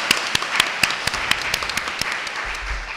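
Applause at a book launch for a graphic novel, honouring its translator: scattered, fairly sparse claps from a small audience, with individual sharp hand claps standing out over a softer murmur.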